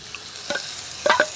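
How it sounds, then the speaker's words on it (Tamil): Ground tomato paste goes into a hot pan and is sautéed for a quail gravy, giving a soft sizzle with a couple of brief stirring scrapes, close and fairly quiet with no talk. "இப்போ அரைச்சி வச்சுருக்க தக்காளி சேர்த்துங்க"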